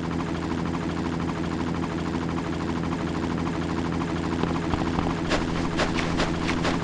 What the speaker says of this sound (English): Come in, helicopter.